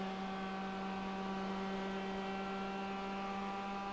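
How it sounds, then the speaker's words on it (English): Mazda MX-5 Miata race cars in the iRacing video game lug their engines uphill at Laguna Seca, giving a steady low droning hum with tonal harmonics that holds constant throughout. "You can just hear these cars lugging their engines up the hill"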